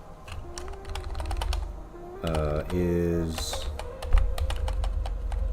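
Keys clack on a computer keyboard in quick irregular bursts while someone codes a game, with a voice talking over parts and a brief whir in the middle.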